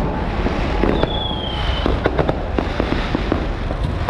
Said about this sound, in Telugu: చూడండి టపాకాయలు మామూలుగా లేదు